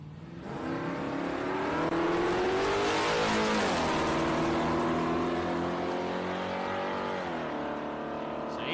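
Holden race cars with 308 V8 engines roar loudly and continuously, revs climbing and dropping through gear changes with a throaty, steady drone and no talking.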